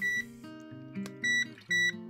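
Fluke BK120 breaker finder giving electronic beeps: several short tonal beeps, two clear steady ones near the end, close and fairly quiet with no talk.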